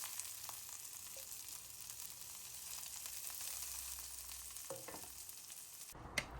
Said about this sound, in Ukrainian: Трохи меленого чорного перцю та смажимо орієнтовно 2 хвилини на середньому, майже сильному вогні